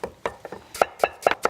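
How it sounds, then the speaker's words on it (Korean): Knife mincing apple on a cutting board in a home kitchen while preparing braised short ribs: a quick series of light, sharp chops, uneven at first and then sharper and more regular, close and fairly quiet. "사과도 마찬가지로 다져주시고요."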